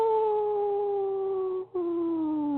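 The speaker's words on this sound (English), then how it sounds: "as the wolves howl off in the distance" Wolves howling in a forest at night, a long sustained, slowly falling tone with a brief break before it resumes, clear and steady with no voices over it.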